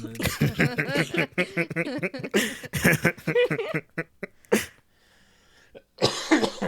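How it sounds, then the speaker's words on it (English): Bursts of coughing breaking out after held-in laughter, rapid harsh spasms in quick succession, close to the microphone, followed by a pause and a final cough. "And it quickly turned into coughing."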